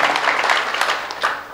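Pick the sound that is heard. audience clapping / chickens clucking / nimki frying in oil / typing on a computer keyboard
audience clapping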